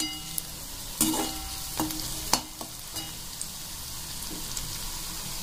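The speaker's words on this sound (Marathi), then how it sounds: "इथे छान प्रकारे आता आपण कांदा जो आहे तो थोडा लालसर होऊ द्यायचा आहे।" Onion fries in a pan until reddish for a black chickpea masala. A steady close sizzle runs throughout, broken by a handful of sharp pops and utensil clicks, and no one speaks.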